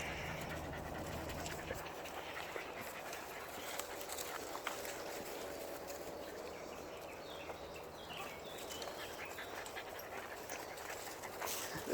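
A dog pants after running among the trees in cool woodland on a hot morning walk, a steady, fairly quiet rhythm of breaths with faint footsteps and birdsong around it.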